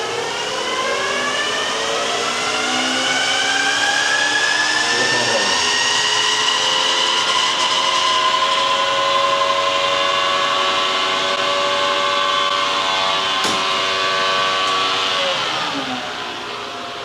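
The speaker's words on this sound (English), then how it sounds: "So he's spinning up the bike, and the roller starts pushing back on the wheel until it gets to the start speed" An electric bike's rear wheel spins up on a dyno roller with a rising, sustained motor whine that holds steady for a long stretch, then drops away at the end.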